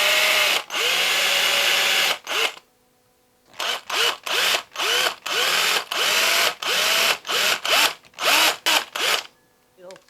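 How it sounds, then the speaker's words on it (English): A small power drill whirs in repeated short bursts, drilling out a socket in a handmade topwater fishing lure, starting and stopping more than a dozen times with brief pauses between, close and fairly loud. "and then I can just drill out the socket"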